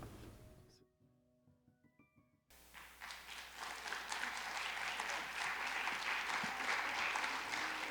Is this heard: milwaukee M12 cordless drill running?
no